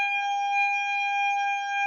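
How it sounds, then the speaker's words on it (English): A steady civil defence siren wails at two o'clock during a round table discussion, holding one continuous tone throughout, loud and alone with no talk over it. "The siren just cut you off."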